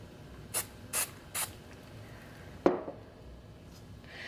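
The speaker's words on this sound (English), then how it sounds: "I'm going to spray our print" Three short hissing bursts of adhesive spray onto a sublimation print in quick succession, followed by a sharp clack and a fainter hiss, all close and otherwise quiet.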